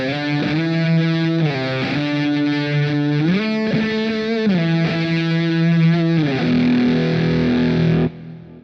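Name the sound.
electric guitar through overdrive pedal on Positive Grid Spark amp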